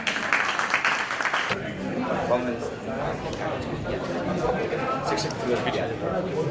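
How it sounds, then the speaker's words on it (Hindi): An audience at a live music show in Hindi claps, a burst of applause in the opening second and a half that gives way to crowd chatter and talk. "इनके लिए ताली बजाइए सब लोग।"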